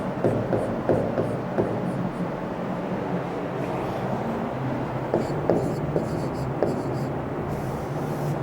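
Marker or chalk strokes scratch across a board in a lecture room, a steady run of short rubbing squeaks with faint background murmur and no clear speech.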